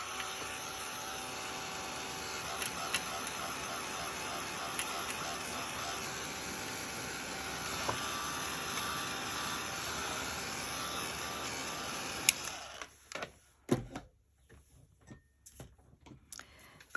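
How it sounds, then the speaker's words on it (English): A heat gun blows on ink for drying, giving a steady whirring fan hiss that runs for about twelve seconds and then cuts off, followed by a few soft handling clicks. "Quick blast with a heat gun."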